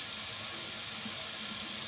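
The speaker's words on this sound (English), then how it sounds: "The water's running good and hot." Hot water runs steadily from a sink tap, a close continuous hiss and splash with no talking.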